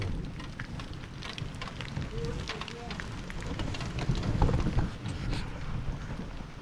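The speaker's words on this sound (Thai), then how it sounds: "ฝนมาแล้ว" Steady rain patters and hisses all around in rice paddies, with scattered drops and crackles and a faint voice underneath.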